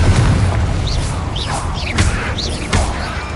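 A Confringo explosive spell in Hogwarts Legacy, with several booming blasts and whooshes in a few seconds over ongoing game ambience and a chirping, swooping effect.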